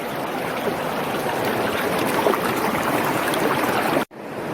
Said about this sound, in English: the water's coming through and it's going through those pipes. And it's swirling all that water down in there